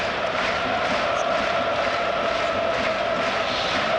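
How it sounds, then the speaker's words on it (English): Football stadium crowd at Tottenham v Newcastle, a steady roaring wash of many voices at a constant level throughout. "the crowd have really buzzed off this display here this evening"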